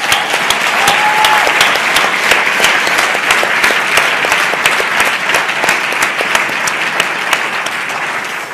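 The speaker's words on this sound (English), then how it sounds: "a round of applause and say thank you" Sustained audience applause at a memorial tribute to a musician, a dense steady wash of many clapping hands, loud and continuous throughout with no talk.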